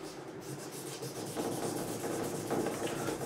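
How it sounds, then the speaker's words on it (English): 2000-grit sandpaper rubbing along a guitar fret on an Ibanez Gio GRGR121EX, a soft close-up back-and-forth scrubbing that grows slightly louder toward the end, with no talk. "I'll take a small piece, 2000 grit, and I'm going to go down the length of the fret itself"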